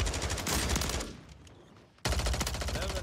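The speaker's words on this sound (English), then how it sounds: "I am shooting." Rapid automatic gunfire in the video game Warzone from a Bruen MK9 rifle crackles loud and close in dense bursts, pauses for about a second, then resumes just as fiercely.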